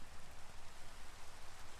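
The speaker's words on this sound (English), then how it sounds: "it's always raining in the biome I'm in" Constant rain falling in a video game biome, an even hiss of drops on surfaces, moderately loud and steady with no speech.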